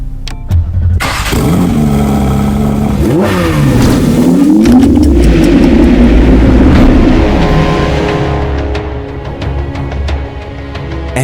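A 2026 Porsche 911 Carrera 992.2 with an aftermarket exhaust starts up and revs loud and close, its deep engine note climbing and falling through several sweeping blips before settling toward a rough idle.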